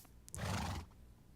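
A horse in Minecraft gives a single short, breathy whinny, faint and brief against quiet game ambience.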